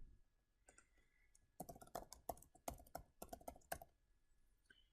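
Fingers type on a computer keyboard in two quick bursts of crisp, close key clicks, a few isolated taps leading into a fast run of keystrokes, fairly quiet against a near-silent room.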